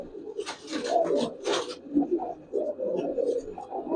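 Giribaz pigeons coo in low, soft, continuous murmurs close by, with a few brief rustling bursts early on.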